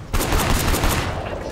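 A rapid burst of about eight gunshots rings out close and loud in the video game Sleeping Dogs, firing in an even rhythm before the sound trails into echo.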